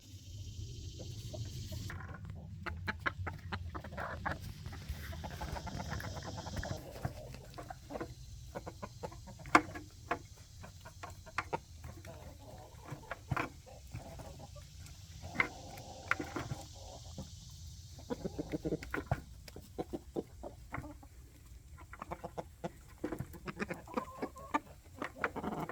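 Several chickens cluck and murmur softly in a pen, irregular low clucks and scattered scratching and pecking sounds, faint and close with no talking.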